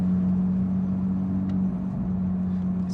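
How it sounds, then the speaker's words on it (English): A car's air conditioning inside a Porsche GT3 gives off a steady low drone with a pronounced constant hum, held evenly and fairly loud from start to finish. "that AC makes such a weird noise"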